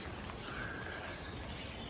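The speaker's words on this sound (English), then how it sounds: "You only hear the birds and the cows" Faint birdsong drifts across quiet French countryside around a chateau, thin high chirps over a soft steady background hush, distant and gentle.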